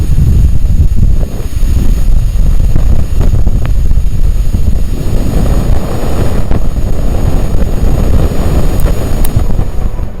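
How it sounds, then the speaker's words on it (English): Solar wind interacting with Venus, rendered as sound from magnetic and accelerometer data picked up by the BepiColombo spacecraft during its flyby: a continuous, dense low rumble like steady wind or engine drone, with faint high whines above. "The faint sound you just heard is coming from the solar wind interacting with Venus"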